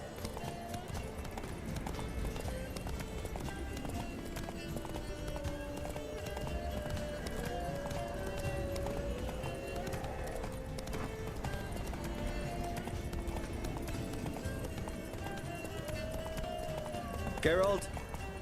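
Roach, Geralt's horse in The Witcher 3, gallops with steady rhythmic hoofbeats that continue throughout, while voices talk over the running and a brief whinny-like cry rises near the end.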